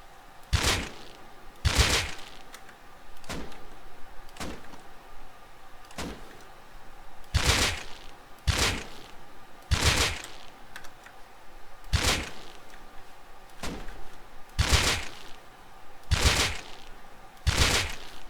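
AK rifle fire in the game Rust, heard as sharp separate shots in pairs and singles spread over about eighteen seconds, with no talking.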